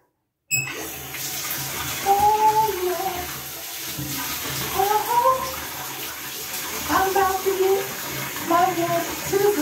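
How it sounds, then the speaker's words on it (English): Water pours and splashes steadily into a basin, a continuous rushing flow with faint bubbling tones, close by. "Now, let's get the water going."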